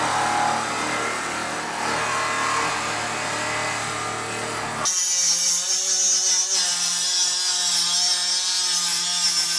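A thin cutting blade on a power tool slices through quarter-inch-thick shipping container steel with a loud, steady grinding whine that changes tone halfway through, the cut continuing without pause.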